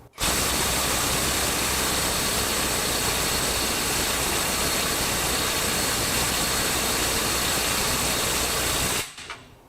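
Silvel 21V brushless impact wrench running steadily at full output while torquing toward 370 foot-pounds, a loud continuous whirring hammer drone lasting about nine seconds before cutting off abruptly.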